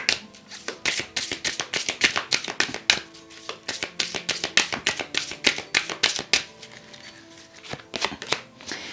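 Doreen Virtue fairy oracle cards are shuffled in a close, crisp run of rapid riffling flutters that pause briefly and resume, steady and dry throughout.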